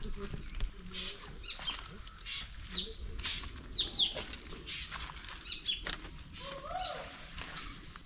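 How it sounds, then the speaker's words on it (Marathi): Small birds chirp and call now and then amid rustling in forest on the Rajmachi trek, with a faint steady outdoor background; no clear voices. "पक्ष्यांचा आवाज बघा फक्त आता"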